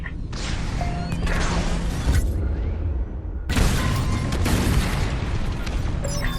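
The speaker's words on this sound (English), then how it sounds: "On my mark, it's bombs away." Heavy bombs from a starfighter raid in Star Wars: Squadrons burst in two loud booming waves, each a deep rumbling blast with crackling debris, separated by a brief lull.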